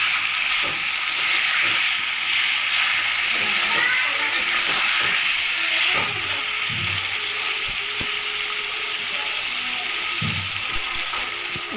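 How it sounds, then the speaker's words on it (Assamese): Up close, marinated chicken meat stir-fries in a pan with cooked tomato for a black-pepper chicken curry, giving a continuous loud hissing sizzle with intermittent knocks and scrapes from stirring. "এনেকৈ অলপ লৰাই ভাজি থাকিম।"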